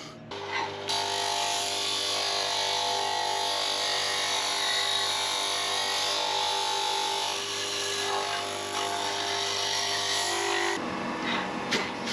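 A power sander smoothing a rough patch on a Ford Cortina, a loud continuous whine and abrasive rasp running steadily close by for about ten seconds before cutting off abruptly.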